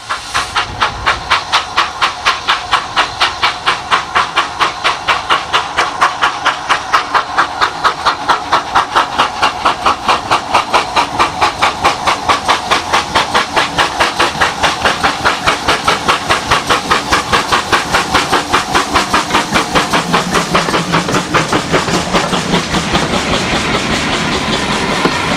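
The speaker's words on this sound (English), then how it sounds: "we come across 6619 at Dunster, restarting after an emergency stop because of a tractor unexpectedly crossing the line." British steam locomotive 6619 pulls away from Dunster after an emergency stop, its exhaust beating in loud, rapid, steady chuffs with constant hissing steam throughout, close by and without talk.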